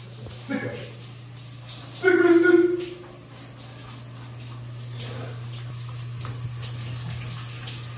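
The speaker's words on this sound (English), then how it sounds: "let's go ahead and get into this and pour this water all over here" Water pours and splashes in a short, loud burst for a shower prank, followed by a steady background hum, with no talking.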